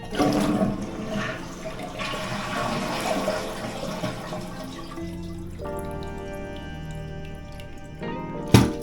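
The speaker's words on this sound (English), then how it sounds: "Now we can flush the toilet." A toilet flushes with a loud rushing swirl of water, settling into a steady tank-refilling hiss and trickle from a hissing fill tube, then ending with a sharp knock.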